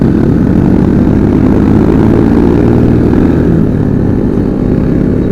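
Heavy, loud engine roar dominates throughout, a deep continuous rumble of several motorcycles with big exhausts revving close by.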